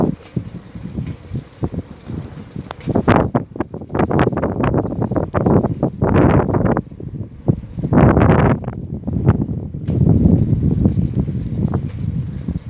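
Strong wind buffets the microphone in loud, rough gusts that rise and fall unevenly, with brief lulls between roaring bursts.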